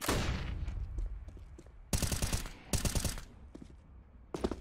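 Counter-Strike: Global Offensive gunfire from a competitive ESL Rotterdam qualifier match comes in sharp bursts of rapid shots, two clustered volleys in the middle and a brief final burst, loud against quieter game ambience with no talking.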